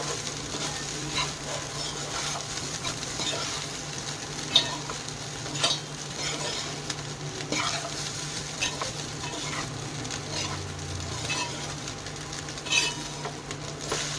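Chicken fried rice being stirred in a hot pan, a constant soft sizzle broken by scraping strokes and occasional clinks of the utensil against the pan, close and with no talking.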